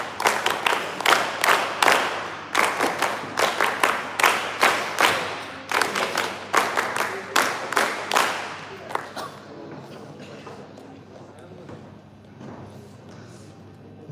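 An audience claps for dignitaries at an NSS West Bengal event, a series of bursts of fairly close applause for about nine seconds before fading to quiet room tone.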